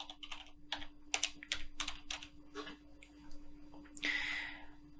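Keys on a computer keyboard tapped in quick, uneven bursts as login credentials are entered, each keystroke crisp and close, with a short pause and a brighter rustling press near the end.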